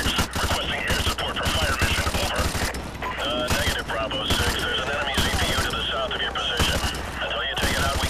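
Rapid automatic gunfire and scattered shots crackle in Call of Duty 4: Modern Warfare Remastered on PS4, bursts recurring throughout the campaign battle amid game noise, with voices talking over the shooting.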